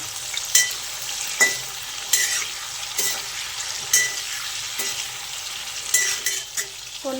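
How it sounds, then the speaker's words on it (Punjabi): Cauliflower fries on medium flame in a pan for aloo gobhi matar sabzi, a constant hiss of oil broken by regular spoon scrapes and light clinks against the pan about once a second, close and clear with no talking. "ਇੱਥੇ ਆਪਾਂ ਗੋਭੀ ਨੂੰ ਵੀ ਬਹੁਤ ਚੰਗੀ ਤਰ੍ਹਾਂ ਫਰਾਈ ਕਰ ਲਿਆ ਏ"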